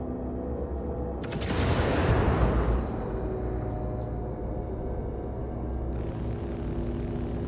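Gunfire from a facility in a space combat game, a dense rumbling burst of rapid fire that swells for a couple of seconds over a steady engine drone, then fades back into the loud continuous hum.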